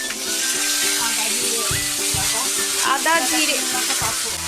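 Spices crackle and sizzle in hot oil as a tempering of ginger-cumin paste, bay leaf, dried chili and cumin seeds fries, steady and close, with scrapes of stirring and faint voices in the background.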